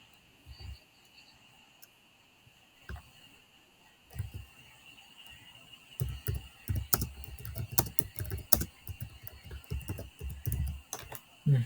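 A computer keyboard being typed on to write a database query, starting with sparse isolated keystrokes and building into rapid, irregular clicking bursts, close and fairly quiet against a faint steady hum.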